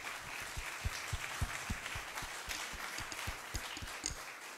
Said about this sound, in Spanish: Les pido un cordial, un caluroso aplauso para él.